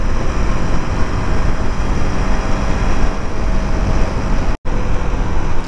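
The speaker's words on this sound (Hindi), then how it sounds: "देखिए गाइस, ट्रैफिक देखिए कितना ट्रैफिक है।" Dense road traffic around a KTM Duke 390 motorcycle on a busy street, a loud continuous broadband roar of engines and wind rushing steadily close by, with a very brief dropout near the end.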